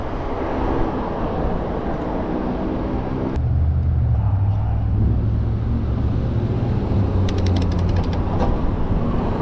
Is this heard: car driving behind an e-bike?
yes